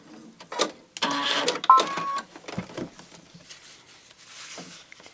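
Sewing machine with a quarter-inch foot stitching fabric, heard as short close bursts of mechanical whirring and clatter, with quieter handling noises in the gaps between runs.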